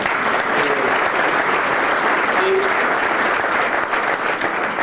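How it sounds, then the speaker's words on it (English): A hall-of-fame banquet crowd gives Steve Donahue a sustained round of applause, loud, thick clapping that continues evenly throughout with no pauses. "How about a little round of applause for Steve?"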